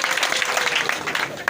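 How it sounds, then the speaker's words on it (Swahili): A church congregation claps in praise of Jesus, a brief thick patter of many hands clapping together at close range. "Aya, pigia Yesu makofi."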